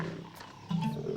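Lions roaring on an African safari, a low rumbling growl that swells midway into a deeper, louder roar, heard close with no talking.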